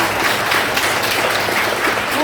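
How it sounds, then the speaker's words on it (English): Students at a women's conference life-skills session in Bangalore give a big round of applause, dense continuous clapping filling the room at close range. "I would like all the students to give a big round of applause."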